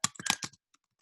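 Quick bursts of typing on a computer keyboard, four or five close, crisp key clicks in a rapid cluster, followed by a couple of faint taps.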